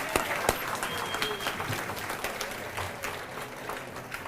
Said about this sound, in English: So a round of applause to that community that made these things happen.